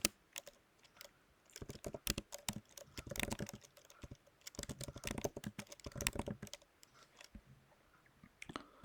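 A command typed on a computer keyboard while installing GPT4All on a local machine, rapid close clicks of keys in uneven bursts with short pauses, quiet and with no talk.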